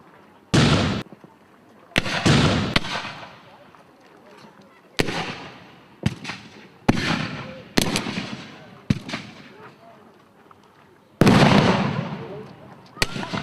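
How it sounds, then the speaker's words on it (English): Mortars firing at a New Zealand Wars reenactment, a string of loud, sharp blasts spaced a second or two apart, each with a rumbling tail, some closer and heavier than others, with faint voices between them. "those mortars sure make a big noise"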